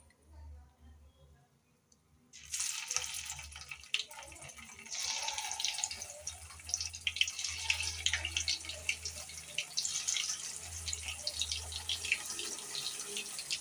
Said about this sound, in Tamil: இப்போ எண்ணெய் நல்லா காஞ்சிருச்சு. நம்ம காலிஃப்ளவரை போட்டுடலாம்.